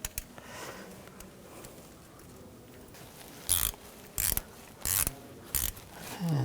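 A ratchet tightens the crankshaft position sensor screw on a 2009-2017 Volkswagen Tiguan, giving five short bursts of quick metallic clicking with small gaps between them, close and fairly quiet.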